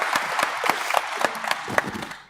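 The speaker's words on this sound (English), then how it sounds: "another warm round of applause, please, for our top candidate, or our Opportunities Party candidate" Audience at a by-election candidates' debate applauding a party candidate, a scattered burst of individual hand claps from a modest crowd, close and fairly loud, thinning and fading out at the end.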